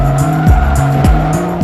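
Bugatti Veyron with an 8-liter, 987-horsepower engine and all-wheel drive in the racing game Forza 3, loud close engine revving with rising and falling gear-shift sweeps under sharp tire squeal, no voices.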